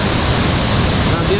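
A waterfall on the Caimborá river roars close by, a loud, steady rushing wash with no break.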